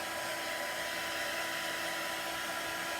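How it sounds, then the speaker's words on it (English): A hair dryer, kept moving so the mat it is drying does not warp, blows in a continuous steady whir with a high whine, running alone without any talking. "Same with your hair dryer. Keep it moving so it doesn't warp."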